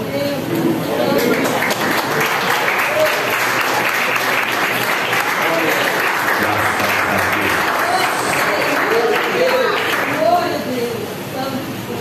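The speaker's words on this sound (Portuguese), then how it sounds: "A igreja pode assentar aplaudindo o nome do Senhor." A church congregation claps continuously and loudly for the whole stretch, a thick, even roar of hands with a murmur of voices mixed in.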